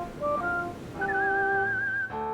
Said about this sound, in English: whistling a jaunty jig.